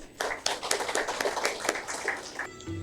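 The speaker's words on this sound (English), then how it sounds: "I would like to welcome her onto the stage with a round of applause." An audience at a Sunday evening talk claps to welcome a speaker onto the stage, a scattered, uneven patter of hands with distinct individual claps, moderately close and a little thin.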